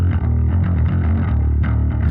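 Music passed through the Pulsar Audio 1178 compressor plugin with its gain pushed into fuzzy distortion, giving a dense, loud, saturated tone with steady low-end drive and gritty upper harmonics throughout.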